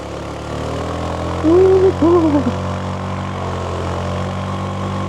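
A Zontes 368G V2 motorcycle engine pulls under throttle on a mountain road with corners, a steady droning hum with a brief rising surge in the middle, heard up close.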